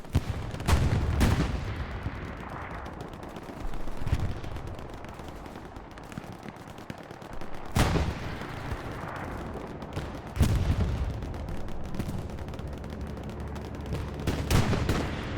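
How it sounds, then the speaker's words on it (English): Bombing run and gunfire in Hell Let Loose on the Utah map: scattered rifle shots and sharp bursts crack out over a distant low rumble, with several loud impacts spaced every few seconds and no voices. "This is now a LEP bombing run coming over the point"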